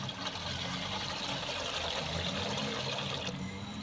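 Rock fish are washed by hand in water, giving a steady close sloshing and trickling wash that runs continuously with no talk over it.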